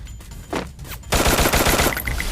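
Gunfire in the mobile game Garena Free Fire, with a couple of isolated shots followed by a loud, rapid burst of automatic fire, close and dominant.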